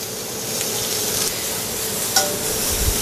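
Onions fry in a pan as the cooked-on sugars are scraped up for a boar stew. Steady, loud sizzling runs throughout, with a few light scrapes and clinks.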